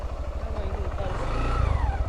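A motorcycle on a rough off-road track revs with rising and falling engine pitch, growing louder as it turns, while someone talks over it.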